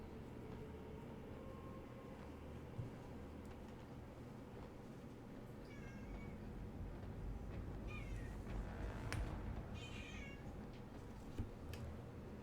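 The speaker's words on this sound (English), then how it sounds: "Grandma's cat has finally decided that she's no longer offended from me picking her up, so she's back to cry at me." A grandmother's cat cries for attention with a few short, fairly close meows over a steady background hum, the calls coming in brief bursts toward the latter half.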